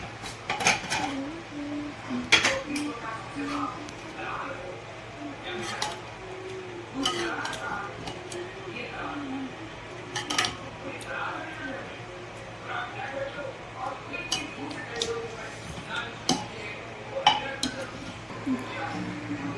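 A pressure cooker of chicken biryani being opened in a home kitchen after three whistles, with clinks of the lid and utensils and scraping of pots through a steady hiss, under ongoing talk.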